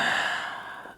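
A single breathy exhale during a vinyasa yoga practice, soft and close, fading out over about a second with no talking.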